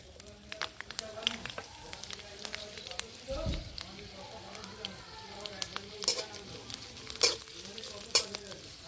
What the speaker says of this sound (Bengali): তেল গরম হয়ে গেছে এখানে আমি ক্যাপসিকাম লম্বা লম্বা করে কেটে নিয়েছি গাজর পেঁয়াজ কাঁচা লঙ্কা কুচি প্রথমে আমি ক্যাপসিকামটা দিয়ে দেবো